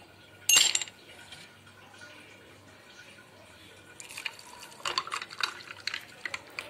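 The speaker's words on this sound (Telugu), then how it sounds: "దీన్ని ఇప్పుడు మనం ఐస్ క్యూబ్ వేసుకొని గ్లాస్లో ఈ వాటర్ మిల్ అన్న జ్యూస్ని వేసుకుందాం." Watermelon juice poured into a glass over ice cubes: a sharp clink of ice near the start, then a quiet spell, then splashing and trickling liquid that builds over the final seconds, close and soft.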